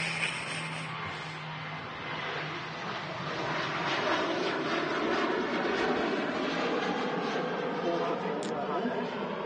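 A Ryanair Boeing 737-800 jet at Manchester Airport gives a steady, broad engine roar that swells slightly in the middle and is heard from a distance. People talk over it throughout.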